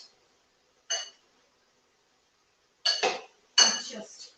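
Two spoons tossing a Greek salad, clinking against a bowl in three short bursts: one brief clatter, a long pause, then two louder back-to-back scrapes and chinks, close and clear with no talking.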